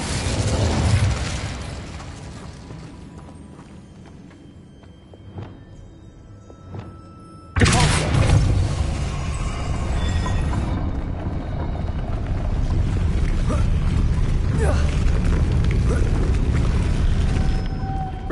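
A fire spell cast in the Hogwarts Legacy video game erupts as a sudden loud whooshing burst midway, then roars on as a sustained dense blaze, with quieter crackling effects before it.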